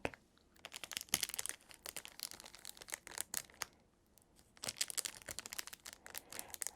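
Decorated corn husks crinkle and scratch up close in irregular bursts of crisp rustling, dropping quiet briefly near the middle before resuming.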